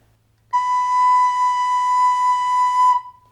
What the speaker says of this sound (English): I'm going to start by playing a whole note